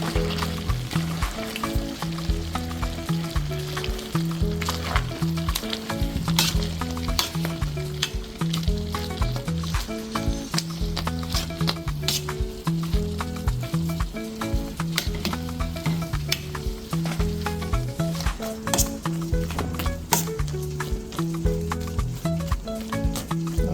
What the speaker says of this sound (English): we'll mash it a little bit.